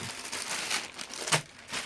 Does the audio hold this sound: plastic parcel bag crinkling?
yes